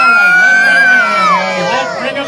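A dense crowd at the Markham fair cheers and yells loudly, voices overlapping in a sustained roar with high whoops rising and falling, close and continuous throughout.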